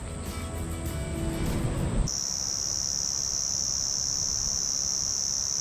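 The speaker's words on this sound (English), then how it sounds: "The crickets are insane." Crickets in Noosa, Queensland, Australia shrill in a dense, continuous high whine, briefly mixed with a louder rustling sound before the steady insect drone carries on alone.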